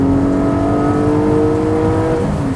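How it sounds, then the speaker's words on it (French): Porsche 718 Cayman GT4 engine revving hard past 4000 rpm with open valves, a loud steady rising growl heard from inside the car with a strong tonal whine, no talk over it. "une fois qu'on passe les 4000 tours, ça commence à gronder sévère"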